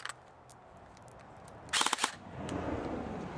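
A Valken airsoft battle rifle fires a quick burst of about five rapid, sharp cracks at close range, with a faint click just before it and a hissing, mechanical tail afterward.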